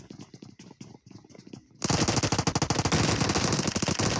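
Rapid automatic gunfire in a battle royale video game, bursting loud and dense after a quieter stretch of scattered shots, sustained rattling bursts to the end.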